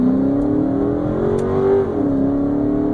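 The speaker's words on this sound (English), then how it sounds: "There's a car coming." A car drives up and passes close by on a road, its engine drone rising to a steady, fairly loud hum, dipping in pitch as it goes by and then holding on.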